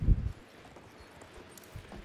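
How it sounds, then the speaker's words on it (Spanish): Horse hooves in the Battlefield 1 video game, a single soft clip-clop at the start, then quiet game ambience with another faint hoof thud near the end. "Tú que vas con el caballo."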